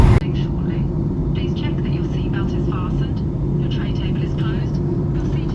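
Steady low engine roar fills the cabin of a SpiceJet airliner on the Mumbai to Bangkok route, a constant drone under faint background chatter from passengers.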